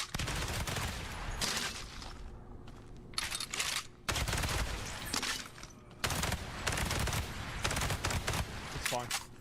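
Bursts of rapid video game gunfire, including shotgun blasts, crackle in repeated volleys separated by short pauses while players talk over the action.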